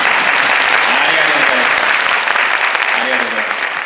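A concert hall audience applauds loudly for the ANA Team Haneda Orchestra at Kagayaki Hall's 30th anniversary concert. Thick, sustained clapping fills the hall throughout, with faint voices briefly audible beneath it.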